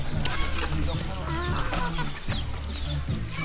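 Chickens cluck around a small village in Ghana, several close birds making short repeated clucks and calls, mixed with people talking in the background.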